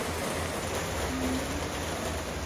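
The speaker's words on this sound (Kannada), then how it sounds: "ಮಳೆ ಬರ್ತೈತೆ" Rain falling, a short stretch of dense, steady hiss at moderate loudness with no voices.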